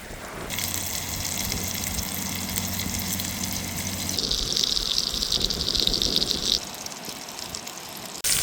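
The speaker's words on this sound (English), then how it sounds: "straight away you can hear the sizzle of the steak" Steak in a hot pan, cooked outdoors on a beach, gives a steady, hissing sizzle, growing brighter and crackly partway through before easing off, close and fairly quiet.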